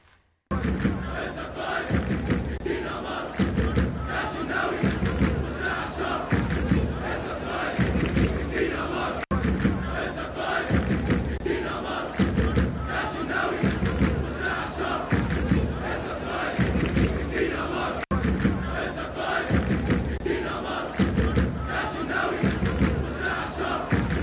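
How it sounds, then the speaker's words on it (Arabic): A large crowd of football fans in a stadium chanting in unison, loud and sustained with a rhythmic, repeating pulse of massed voices, briefly cut twice. "تعالوا اوريكم الفيديو ده خاص بالريمونتادا الجمهور امبارح بيقول ايه للشناوي"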